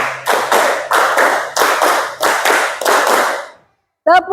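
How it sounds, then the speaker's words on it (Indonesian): Rhythmic classroom clapping in an Indonesian school lesson on the Pythagorean theorem: groups of sharp, loud claps in a steady counted pattern, broken by a short pause, with a brief voice at the end. "Tepuk 1, tepuk 2, tepuk 3, tepuk 4, 3 kali tepuk 4,"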